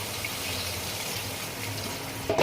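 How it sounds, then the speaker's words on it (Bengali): Water poured into a pot of gravy, a steady gushing splash that runs continuously for a couple of seconds before a brief clatter at the end. "এরপরে আমি একটু জল অ্যাড করব"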